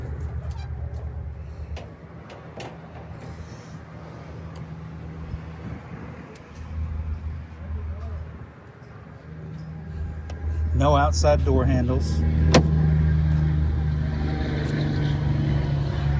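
A 1932 Henry Ford steel roadster with a 327 engine and 4-speed runs with a low, steady rumble that grows louder partway through. Someone talks over the engine throughout.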